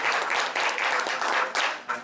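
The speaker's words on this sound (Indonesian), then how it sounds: "terima kasih untuk Chris dan tim IT, Irhan, tepuk tangan untuk mereka yang sudah menyiapkan" A church congregation applauds steadily during a service, a dense wash of clapping that swells and dips in waves throughout, with no speech over it.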